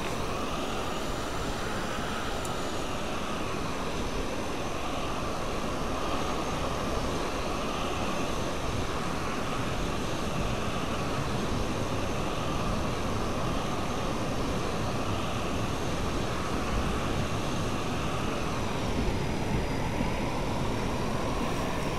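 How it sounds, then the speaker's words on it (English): A Eurofighter Typhoon jet in Flight Simulator X rolls down the runway for takeoff, its engine a steady, unbroken roar that holds at an even level throughout. "Taxiing was uneventful, but once I hit my takeoff roll,"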